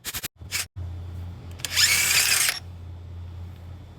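An impact wrench removes the harmonic balancer bolt on an LS engine in a short loud burst of about a second, after a few sharp clicks and knocks, with a low hum underneath.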